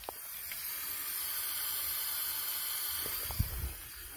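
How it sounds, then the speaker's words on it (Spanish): Quiet, steady hissing of water leaking from a fire-burnt pipe runs throughout, with a couple of faint knocks near the end. "la tubería se ha quemado y está perdiendo agua."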